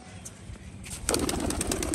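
Pigeons at a pigeon sale, with soft cooing and wing flaps that grow into a burst of close, busy fluttering halfway through and stay loud to the end.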